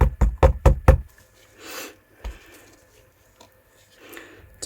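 Five quick, heavy knocks on a resin vase mould, tapped to release air bubbles, followed by a single softer knock and faint rustling handling sounds.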